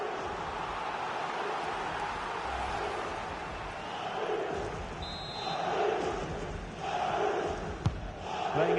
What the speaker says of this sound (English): just listen to the crowd. They know this is a big chance to equalise.